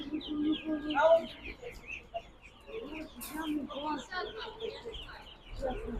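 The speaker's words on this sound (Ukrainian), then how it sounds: "А це утята, качата, утята." Many ducklings peep and chirp continuously at a busy live-poultry market in Poltava, Ukraine, with people talking nearby underneath the high chatter.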